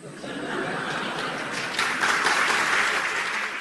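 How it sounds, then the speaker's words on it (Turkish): A studio audience at a television history program breaks into loud, sustained clapping mixed with some chuckles and laughter, swelling briefly before holding steady. "Bu alkış niye? Bu alkış niye?"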